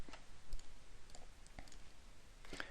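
Sharp, isolated computer mouse clicks in a quiet office setting, a few brief taps spread across the span with soft background noise.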